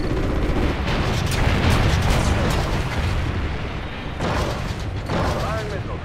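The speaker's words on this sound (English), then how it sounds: "Firing missiles." Missiles launching and detonating in Call of Duty: Ghosts make a dense, continuous roar of blasts and rumbling, loud throughout and layered under radio chatter.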